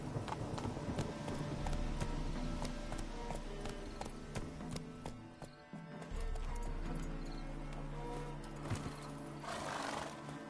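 Hooves of the horse Roach clip-clop at a steady galloping rhythm in The Witcher 3: Hearts of Stone, loud and close, with occasional whinnies and game ambience around them.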